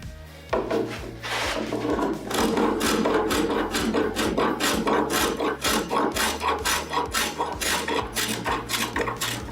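Wooden workpiece held in a bench being trimmed at the ends, a fast rhythmic rasping of strokes repeating in quick succession, close and fairly loud, with no talk.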